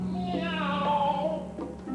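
A voice imitates a cat in a 1983 Broadway stage production of Alice in Wonderland, giving a drawn-out, wavering meow that rises and falls, close and clear over a faint sustained background tone.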